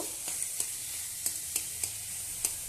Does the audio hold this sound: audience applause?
no